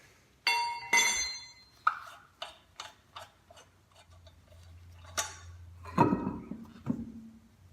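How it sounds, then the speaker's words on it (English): Lug nuts are loosened and removed from a car wheel with a lug wrench during a tire change, making a series of sharp metallic clinks and rattles at an uneven pace with a short ratcheting scrape near the end. "Now you're going to want to finish unscrewing all the lug nuts."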